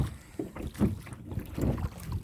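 A small boat rowed with paddles on a lake, with several soft, close splashing strokes arriving in a loose rhythm against a quiet background.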